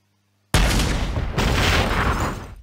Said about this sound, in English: Tank shell against the mammoth tank.